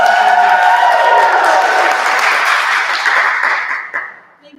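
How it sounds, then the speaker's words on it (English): A crowd claps loudly and steadily, the applause sustained for several seconds before tapering off and fading out at the end. "Everybody give an applause"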